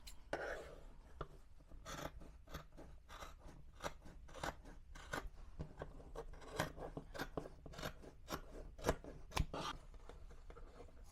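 Scissors snip through fabric being cut for a book cover, a long series of crisp close cuts in an irregular rhythm, with some quiet rustling between strokes.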